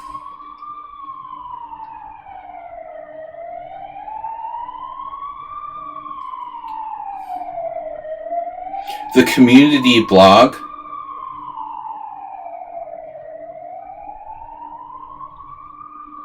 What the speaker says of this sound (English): It's the iconic Hungarian ambulance sound.